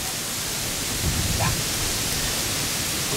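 Wind blows steadily across open rice fields, a loud continuous broadband roar with a faint voice briefly audible beneath it.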